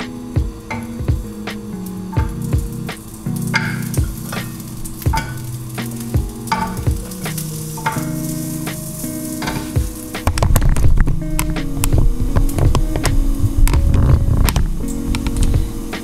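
Frozen dinosaur-shaped chicken nuggets fry in an oiled skillet on the stove, a steady close sizzle with crackling pops and occasional scraping of the pan, growing louder and busier in the last third.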